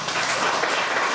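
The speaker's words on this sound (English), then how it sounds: "please give him a round of applause" An audience at a talk on preparing for the CAT exam applauds, giving a brief, dense, steady burst of clapping that fills the whole moment.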